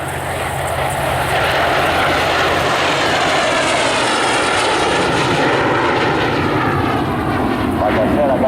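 T-33 jet at an air show, its engine roaring loud and continuous with a sweeping, shifting tone as it passes, a voice talking over it throughout.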